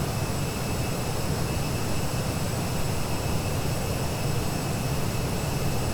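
In a flight simulator, a Douglas DC-8 airliner on its landing approach gives a steady, loud, broadband engine roar with a thin high whine running through it, with no change in level throughout.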